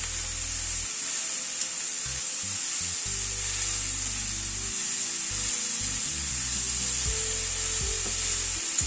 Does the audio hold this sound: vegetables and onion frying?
yes